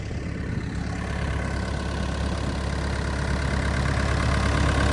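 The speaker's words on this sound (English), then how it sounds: "Pipe is now full and starting to pump." Idrofoglia turbopump running once its pipe has filled, a steady mechanical hum with an engine-like low drone and faint rattling overtones, continuous and close, gradually building slightly louder.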